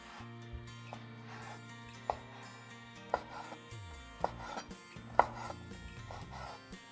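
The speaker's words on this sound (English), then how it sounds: "Cut 50 grams of ham. I got 4 slices, first into strips, then into small cubes." A knife chops 50 grams of sliced ham into strips and small cubes on a board, sounding as faint, evenly spaced sharp taps about once a second over low steady background music.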